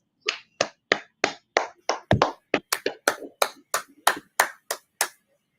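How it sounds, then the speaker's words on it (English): Hands clap in a podcast studio, about seventeen crisp, separate claps in a fairly even rhythm of roughly three per second, close and dry, then stopping into silence. "All right, clap it up."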